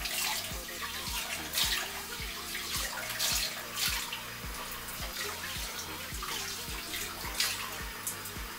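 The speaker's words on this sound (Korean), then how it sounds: "충분히 롤링해준 후에 잔여물이 남지 않게 헹궈내주면 됩니다" Tap water runs into a bathroom sink while face cleanser is rinsed off, a steady close splashing with irregular louder splashes from the hands, while a low rhythmic thumping beat plays underneath.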